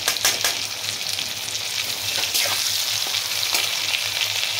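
Curry frying in fish oil with turmeric and chili powder makes a continuous, close sizzle with bright hiss and occasional stirring scrapes throughout.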